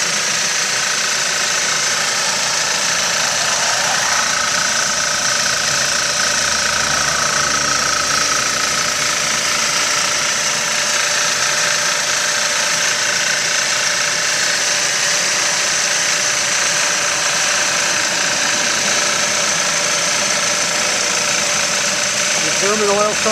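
A 2.0 engine with electronic injectors idles steadily after a cold start, a continuous even drone with a faint mechanical tick running unchanged throughout.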